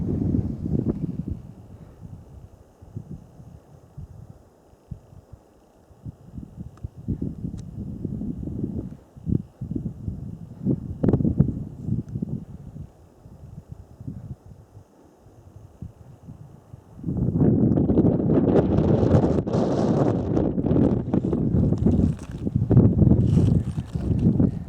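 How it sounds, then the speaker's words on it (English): Wind gusting along a mountain road near Mono Lake, first an uneven rumbling buffet, then a steady, much louder roar in the second half, with no talking. "the wind's coming up"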